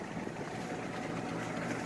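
A constant low hum and whir of an RV air conditioner running in the background, steady and moderately quiet.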